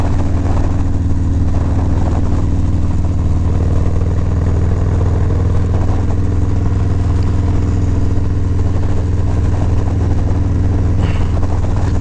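Loud, steady low engine drone of a 2018-or-later Harley-Davidson Softail motorcycle fitted with an RWD RS-1 monoshock while riding, with constant wind rush and no speech.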